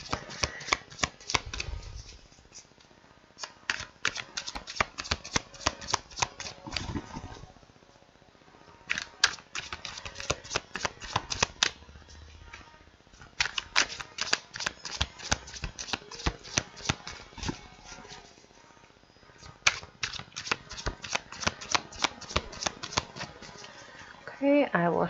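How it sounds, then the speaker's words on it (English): A brand-new, still slightly slippery deck of cards is riffle-shuffled over and over in several bursts of fast crisp flutters, close and clear, with short pauses between rounds and occasional speech. "Okay, I will shuffle 2 times more."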